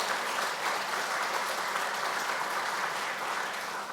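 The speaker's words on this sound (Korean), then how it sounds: "수료증과 선물을 들 때 박수로 축하해 주시기 바랍니다" A church congregation claps steadily at a Sunday service as certificates and gifts are presented, giving a continuous wash of applause for a few seconds with no talking.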